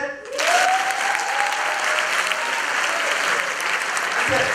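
A comedy show audience on a campus tour bursts into loud, sustained applause and cheering that fills the room.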